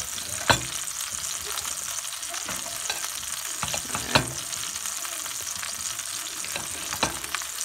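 Beef short ribs sizzle steadily in a stovetop pan, a continuous hiss of fat crackling close by, broken by a few sharper pops and the clink of stirring, with no talking.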